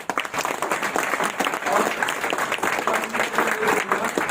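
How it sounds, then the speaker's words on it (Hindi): An audience at a business gathering bursts into loud, dense applause, many hands clapping close and continuously for several seconds without a break. "मैं जोरदार ताली चाहूंगा"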